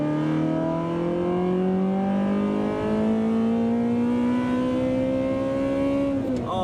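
Loud, sustained engine note of a 1995 Ferrari F355 Berlinetta with a gated manual, rising steadily in pitch as it revs toward its 8,500 RPM cutoff, heard from inside the car and ending abruptly at the limit.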